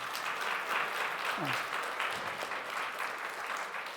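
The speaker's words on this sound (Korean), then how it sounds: "소개해서 박수 한번 하겠습니다." A church congregation at a New Year thanksgiving service applauds, steady crowd clapping throughout with faint voices underneath.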